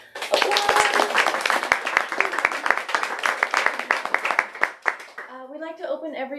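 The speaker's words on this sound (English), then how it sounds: "Let's give an applause." Small audience clapping at a bookstore author event, sharp close handclaps that carry on for about five seconds and then stop as a voice begins speaking.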